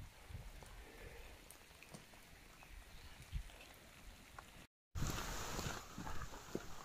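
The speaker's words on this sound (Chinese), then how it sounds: "这个要下小雨啊，我估计得下好长阵子呢啊" Light rain falling outdoors in a residential compound lined with photinia shrubs at Rushan Silver Beach, a soft steady patter that cuts out briefly midway and then returns slightly stronger.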